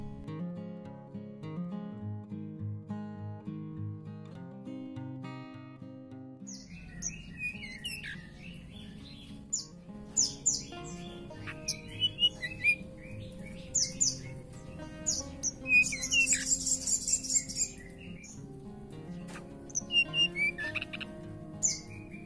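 Sulawesi tledekan, also called the Jampea ground flycatcher, calling and chirping with scattered thin high chirps and short twittering bursts, fairly close, over soft background music.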